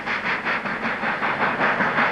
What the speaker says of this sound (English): The Flying Scotsman train seen here on the Bassendean Strait and passing Midvale.